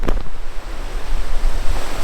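Ocean waves crash on the rocky Madeira coast, a loud broad wash of surf with wind buffeting the microphone and no voices.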